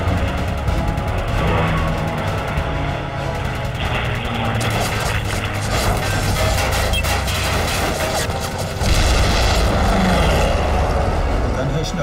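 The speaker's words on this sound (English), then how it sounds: "we got bombarded by artillery and low-flying planes for 3 days" Wartime artillery bombardment with low-flying planes at El Alamein, a dense continuous roar of engines and rumbling blasts with crackling fire throughout, loud and sustained.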